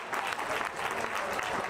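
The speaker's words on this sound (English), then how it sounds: "And let's give them one final round of applause as they lead." Crowd clapping at the opening ceremony of a 24 hour championship, a short burst of even, moderately distant applause with no voices on top.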